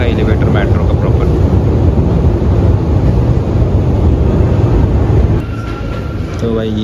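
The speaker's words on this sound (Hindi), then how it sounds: "तो भाई ये था हमारा मेट्रो जिसमें हम आए थे" Underground metro train in Russia pulling into a station, a steady loud rumble and wheel roar with wind noise that settles as it slows, a brief high squeal near the end.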